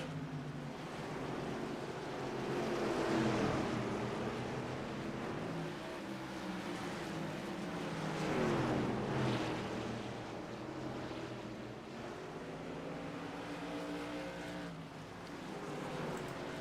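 Modified race cars lap a short track in a Superleague race, their engines a continuous roaring drone that swells and fades as the pack passes, heard from a distance without speech.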